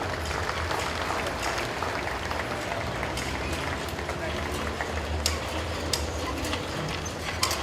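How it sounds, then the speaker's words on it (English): Applause from a crowd at the Iowa State Fair farm exhibit, given for the equipment exhibitors, dense and continuous clapping with sharp claps standing out over a busy outdoor background. "Why don't you give all these exhibitors a round of applause?"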